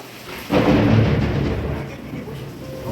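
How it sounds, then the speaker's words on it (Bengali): Heavy rain pours during a thunderstorm, a loud rolling thunder rumble swelling in after half a second and fading slowly over the constant downpour. "দেখুন কেমন মুষলধারে বৃষ্টি হচ্ছে।"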